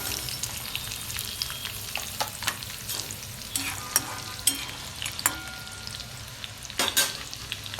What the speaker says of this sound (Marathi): आता ह्याला चांगला असा लसणाला लाल होऊ द्यायचंय